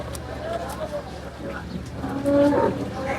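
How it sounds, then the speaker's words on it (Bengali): Native cattle moo close by at a busy cattle market, with other animal calls and voices murmuring in the background. "কিন্তু অনেক সুন্দর সুন্দর গরু চলে আসছে।"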